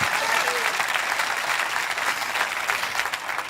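A church congregation bursting into sustained applause, dense and continuous clapping filling the room with a faint murmur of voices underneath.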